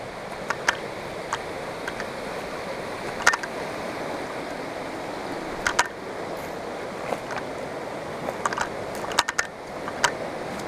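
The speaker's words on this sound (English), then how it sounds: "let me get a river background going" A river streams past a campsite in the Idaho mountains, a steady broad rushing wash heard close, with scattered faint clicks and ticks over it.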